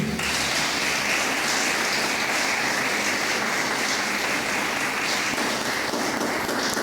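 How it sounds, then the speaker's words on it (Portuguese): Church congregation applauding in praise of Jesus, a dense, steady wash of many hands clapping at full volume throughout, with no voices rising above it. "Aplauda Jesus com alegria."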